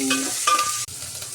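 Chilies and onions dropped into a hot tempering with mustard seeds, frying and being stirred in a pan for bobbara gudalu, a short loud sizzle with stirring clatter that briefly dips before resuming.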